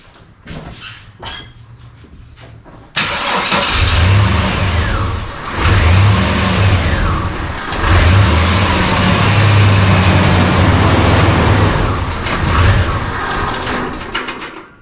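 A 1992 GMC Sonoma GT's 4.3 engine cranks and fires after a few seconds of quieter rattling, then settles into a loud, close idle that surges up and down in uneven waves.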